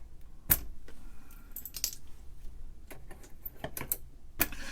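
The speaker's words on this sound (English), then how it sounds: "Trying to get some clearance here by removing some of these centered ones." Molded keycaps are pried off an old E&L VTE-1 terminal keyboard, giving a handful of sharp plastic snaps and clicks spaced irregularly over a quiet background.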